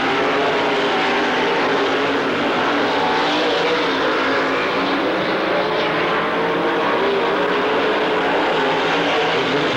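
Race cars lap a dirt speedway at a 1997 Lernerville event, a dense, continuous engine roar from a pack of cars filling the whole stretch at high, steady loudness.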